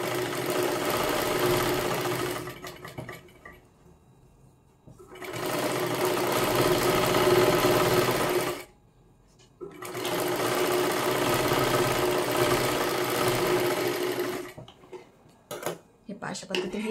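A sewing machine running a seam down a folded fabric strip for a baby girl's frock, humming in two long steady bursts separated by quiet handling gaps, near and clear, with a few clicks at the end.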